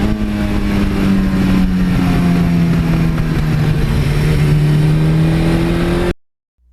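A 1982 Suzuki GS1100E motorcycle engine runs steadily and loud up close, its strong low hum holding through a slight rise in pitch for about six seconds before cutting to silence.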